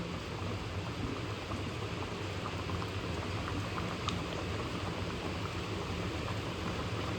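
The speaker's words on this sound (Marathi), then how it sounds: "पाहू शकाल कालवणाला मस्तपैकी उकळी फुटायला लागलेली आहे आता" Freshwater fish curry bubbling at a steady rolling boil in a pot, a dense continuous simmering wash of small pops and gurgles at close range, with no voices.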